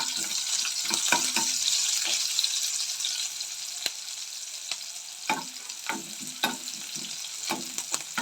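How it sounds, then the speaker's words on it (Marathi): Onion dropped into hot oil for tempering crackles and sizzles loudly up close, followed by repeated scraping and stirring strokes against the pan as the frying continues; no speech. "तेल छान गरम झालं की त्यामध्ये आपण टाकूयात कांदा"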